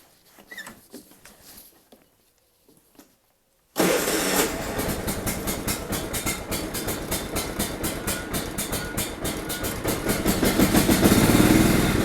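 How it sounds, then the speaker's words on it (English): A John Deere LT 155 lawn tractor engine cold-starts on a 45-degree morning: a few faint clicks, then the starter catches and the small engine bursts into a loud, rapid, steady chugging idle that grows slightly louder. "we're going to be starting my John Deere LT 155 lawn tractor."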